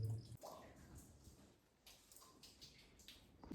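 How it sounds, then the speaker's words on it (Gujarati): Water drips from the ceiling of a cave housing a Shiva temple, scattered soft drops and splashes falling faintly at irregular intervals in a quiet, echoing space. "ઉપરથી ઘણું બધું પાણી પડે છે, જો ટપકે છે"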